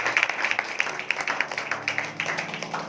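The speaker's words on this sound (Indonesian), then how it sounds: "Berikan tepuk tangan dan buat Tuhan." Congregation applauding during a church praise and worship service, a moderate burst of scattered hand claps with uneven rhythm, close and lively, with no one speaking over it.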